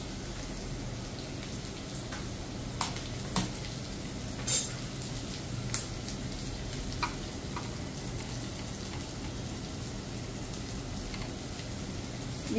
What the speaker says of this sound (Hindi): ये ऑनियन हो रही है, इसके साथ ही साथ में मैं एक तरफ पापड़ को भी भून रही हूँ